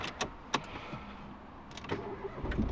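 A repaired Ford Fiesta engine, previously blown up, cranks and catches, with a few sharp clicks first and a low rumble building toward the end.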